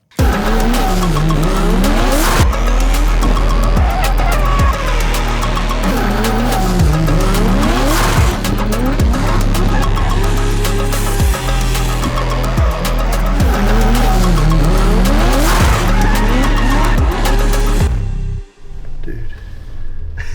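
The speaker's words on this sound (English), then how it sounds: "it's the first AI car, drift car." A driverless AI-controlled drift car skids with loud, sustained tire squeal and a revving engine, pitch sweeping up and down as it slides through repeated drifts for most of the stretch before cutting off abruptly near the end.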